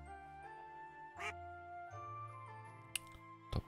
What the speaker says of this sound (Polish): Kurde, te kaczki mnie tutaj denerwują.